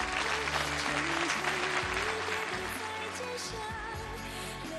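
An audience on a televised wedding-host contest stage claps warmly and steadily to welcome a contestant, with music playing underneath and the applause gradually easing.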